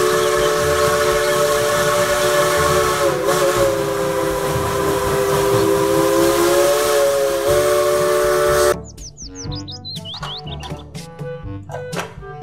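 A Thomas toy train lets out a long, loud, steady steam-style whistle with a hissing undertone for several seconds, then cuts off to a quieter stretch of scattered tonal chirps and clicks.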